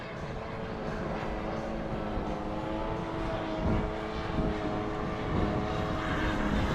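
Engine drone from a radio-controlled model jet at an RC flying field, flying overhead as a steady, fairly loud whine with slight swells, no talk over it.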